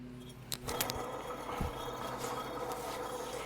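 Worn wheel bearing on a 2001 Scrambler 500 2x4 ATV, heard up close as a rough, continuous grinding rumble with a few sharp clicks near the start.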